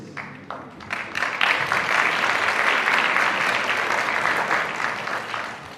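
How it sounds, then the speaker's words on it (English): A large audience at a summit event applauds continuously, dense clapping swelling quickly and holding steady for several seconds before tapering slightly. "Can we give another round of applause?"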